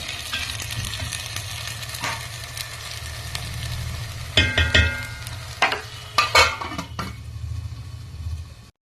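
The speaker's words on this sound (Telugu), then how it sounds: "ఇప్పుడు ఇది కొద్దిగా బాగా ఆయిల్లో బాగా మరిగిందండి" Fish kurma simmers in oil over a low flame, giving a steady soft sizzle with occasional louder stirring scrapes and pot clinks from the middle onward.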